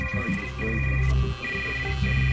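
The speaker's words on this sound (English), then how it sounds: "cell phone went off" A cell phone rings with a steady, sustained electronic tone that pauses briefly now and then, set against a continuous low rumble.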